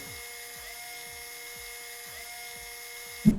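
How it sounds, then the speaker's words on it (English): A looped electric drill sound effect, played for the souls in a paper-crafted Unity video game, gives a steady high whine with rhythmic pulsing sweeps roughly every half second, then ends in a short, louder thump. "what if I just downloaded the drill sound effect and looped it?"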